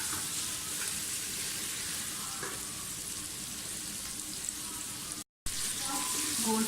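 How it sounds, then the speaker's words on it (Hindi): Mutton frying in oil in a pan, a steady soft sizzle with light stirring, briefly cut off near the end before resuming. "थोड़ा सा गोश्त को भूनूंगी"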